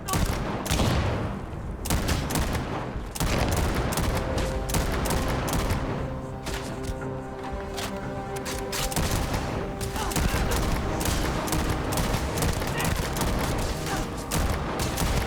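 Sustained gunfire in the video game Starfield, dense overlapping shots and booms in a continuous loud barrage lasting throughout, with background game noise.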